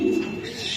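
A racing pigeon gives one short, soft coo close by, a brief throaty note against light background noise.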